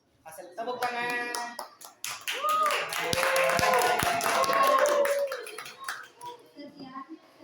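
A small audience claps at the end of a class group presentation, a few seconds of scattered, uneven hand claps mixed with children's voices and chatter nearby.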